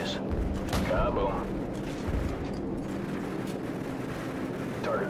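Heavy gunship cannon fire in Call of Duty 4: Modern Warfare, a series of deep booming shots over rumbling battle ambience, with radio voices talking over them.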